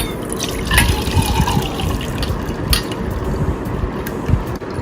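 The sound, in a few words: water strained off soaked urad dal lentils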